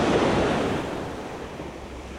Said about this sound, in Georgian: ზღვა ხედავთ, რომ ძალიან კარგია, ანუ ტალღები პატარაა.